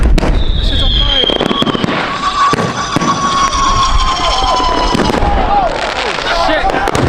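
Fireworks exploding at a 4th of July show, loud repeated bangs and crackles with whistling rockets, close by, with people shouting and exclaiming throughout.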